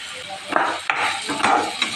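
Rava upma being stirred in a pan with a spoon, a few quick scraping strokes with light clinks and a faint sizzle underneath, close and short.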